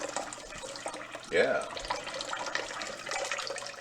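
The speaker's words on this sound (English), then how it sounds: "I'm still filling up the water here for the vermicelli" Tap water runs steadily into a pot being filled for vermicelli, a continuous splashing stream that briefly swells louder, with someone talking over it.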